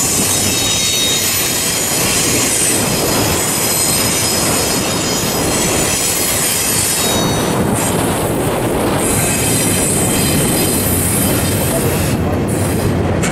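Loud, shrill wheel squeal from a long freight train loaded at the ports, grinding on the rails at close range, the screech rising and shifting over a steady rumble of rolling cars.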